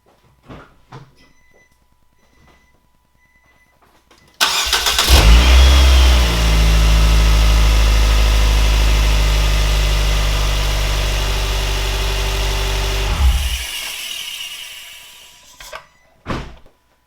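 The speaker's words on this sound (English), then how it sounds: "Let's turn the car on." A 2012 Nissan Sentra engine cranks and catches with a loud roar after a radiator change, then settles into a steady idle for several seconds before cutting off.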